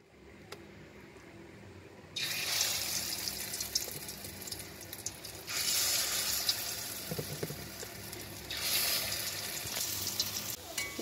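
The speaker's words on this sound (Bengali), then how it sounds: "দেখো এভাবে আমি ভাজবো।" Food sizzles quietly in a frying pan, the crackle swelling into brighter bursts now and then over a soft background.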